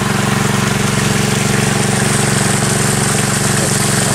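A gas-engine water pump flooding rice fields runs steadily and loud at close range, its chugging idle drone thick with a rhythmic low throb and no voices over it.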